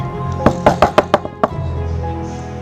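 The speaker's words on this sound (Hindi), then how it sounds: "ये क्या मॉम, क्या नीचे दरवाज़ा नॉक हो रहा है?" Door knocking in an animated 3D horror movie: seven sharp knocks in a quick, slightly uneven series, loud and close, followed by a low hum.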